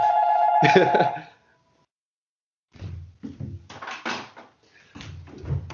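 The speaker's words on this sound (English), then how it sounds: "Excuse the phone." A telephone rings once, loud and close, during a podcast recording, then stops abruptly and is followed by a pause before people resume talking.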